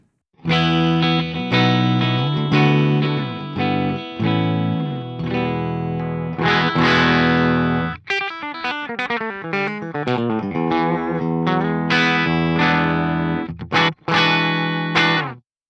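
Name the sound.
clean electric guitar through Archetype Nolly X plugin, mids boosted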